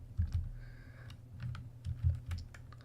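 Computer keyboard typing from The Stanley Parable Ultra Deluxe, a run of quick, light key clicks in an irregular rhythm heard alone at close range over a low background hum.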